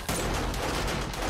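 Dense, continuous gunfire from the zombie survival game 7 Days to Die, a loud unbroken rattle of rapid shots filling the whole moment with no clear gaps or speech.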